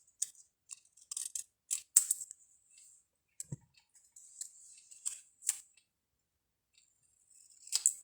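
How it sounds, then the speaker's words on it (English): Scissors snip excess white edging off card stock in quiet, close clicks and short crisp cuts, scattered irregularly with brief pauses between bursts. "we're just trimming a little bit of that white excess off of them"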